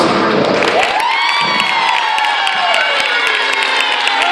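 A carnival crowd at the Gáldar Sardine Carnival cheers and applauds a drag performer, loud and continuous, with whoops and shouts riding over dense clapping and music-like tonal sweeps.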